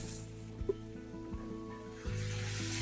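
Meat sears in a hot pan with a soft steady sizzle beneath a low hum, a few light knocks or clicks, and the frying noise growing louder near the end.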